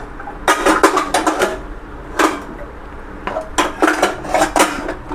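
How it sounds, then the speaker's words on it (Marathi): Steel utensils, glasses and dishes clatter as they are taken out of a kitchen rack during a room cleaning, in bursts of sharp clinks and rattles separated by brief quiet pauses, close and fairly loud. "सध्याची ही सगळी भांडे बाहेर काढून घेतो"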